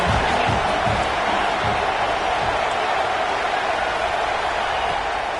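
A loud home crowd roars continuously throughout a football game, a dense wall of cheering and noise with faint voices underneath.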